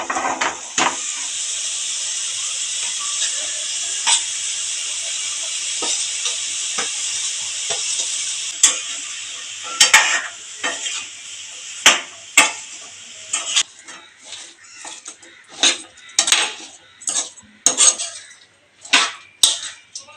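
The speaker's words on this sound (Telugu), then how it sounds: "ఇప్పుడు ముందుగా కట్ చేసి పెట్టుకున్న పొట్లకాయ ముక్కలు వేసుకుందామండి" Snake gourd pieces hitting a hot pan give a steady, bright sizzling hiss that fades over time, then a run of close spatula scrapes and clanks against the pan as the pieces are stirred.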